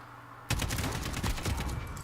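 A burst of rapid gunfire erupts suddenly in a shooting video game and keeps going as a dense, loud fusillade of overlapping shots for about a second and a half.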